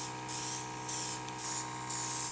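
An airbrush sprays black paint onto a sci-fi model in short bursts, a close, steady hiss that starts and stops several times, with no voices.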